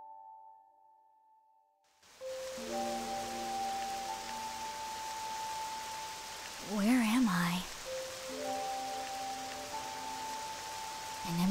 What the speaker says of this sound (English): purple rain pouring out of a strange cloud above the village